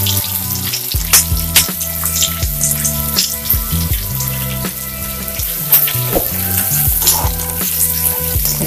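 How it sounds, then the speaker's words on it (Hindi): Onions fry in a pan for chilli chicken curry, a loud continuous sizzle with crackles throughout, while steady low rhythmic tones play in the background. "ये प्याज जब तक गोल्डन ब्राउन ना हो जाए तब तक इसको फ्राई करते रहना"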